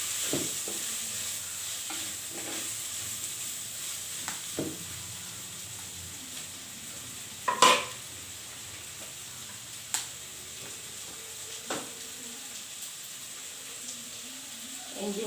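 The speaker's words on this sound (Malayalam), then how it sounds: "കുറച്ച് ഉപ്പിട്ട് ഇളക്കി മൂടി വെച്ചാൽ വേഗം വാടി കിട്ടും." Vegetables being stirred with salt in a frying pan for fish curry: a soft low sizzle beneath sparse utensil clinks and scrapes, with one louder clatter partway through, close but quiet, with no talk.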